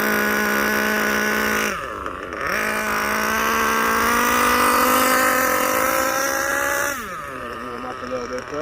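The nitro engine of a Kyosho USA-1 truck runs at half throttle, a loud buzzing whine that dips and climbs again twice as the throttle is backed off and pushed, with a voice faintly underneath.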